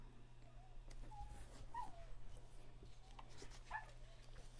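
A hungry dog whimpers in a few short high whines over a steady low electrical hum, faint and indoors, with soft handling noises around it.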